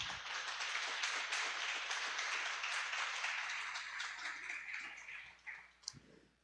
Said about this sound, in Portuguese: Diga a glória a Deus e aplauda Jesus Cristo